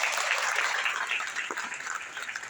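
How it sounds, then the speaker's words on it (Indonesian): Church congregation applauding during a sermon, a dense wash of clapping from many hands that holds steady and then thins out toward the end. "Kalau tepuk tangan kompak lebih enak saudara"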